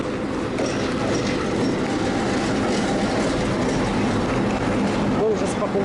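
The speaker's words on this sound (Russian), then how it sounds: "Ось їде паровоз, везет наші вагони." Continuous rumble and rattle of a passenger train with wagons rolling past nearby in Chernivtsi, Ukraine, with faint clanks and a brief squeal, steady throughout; muffled voices in the background.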